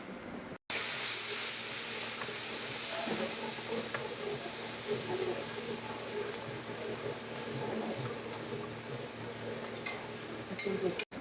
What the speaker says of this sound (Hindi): इसको अच्छी तरह से आप भून लें ताकि सही से मसाला भुन जाए और जले नहीं